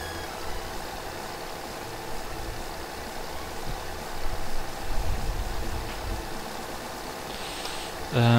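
A tractor engine idles in Farming Simulator 15, a low steady hum that swells briefly midway and then carries on faintly, with a louder knock near the end.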